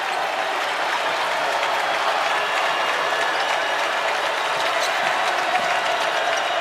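A home crowd at a college basketball game cheers and applauds loudly and continuously, a dense roar of clapping and shouts throughout.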